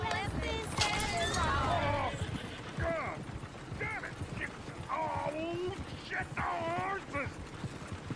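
Horse hooves clip-clop in Red Dead Redemption 2, a light, uneven patter of steps running beneath steady, overlapping conversation between several voices.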